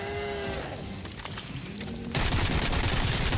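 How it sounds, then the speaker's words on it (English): Gunfire in the horror game Sker Ritual, a dense, loud rattle of rapid shots that swells abruptly halfway through into a heavier continuous burst, layered over a low moaning game creature sound. "I'm gonna just keep trying to shoot her."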